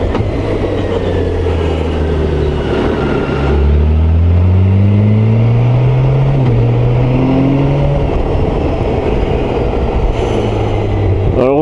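A 2022 BMW K1600GT touring motorcycle's engine drones steadily while riding on the road, rising and falling in pitch through gear changes over constant loud wind rush.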